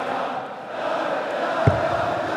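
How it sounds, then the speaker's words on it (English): Darts crowd at the German Darts Championship final, a steady dense wash of cheering and chanting voices filling the hall, with one brief thump partway through. "Crowd are really enjoying this, though."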